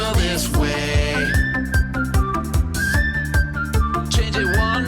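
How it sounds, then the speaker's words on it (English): A melodic whistled tune rides over a steady, bouncy music track with a thumping beat, rising and falling in short phrases. "Now whistle this way."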